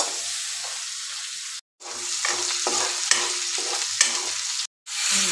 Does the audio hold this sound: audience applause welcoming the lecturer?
no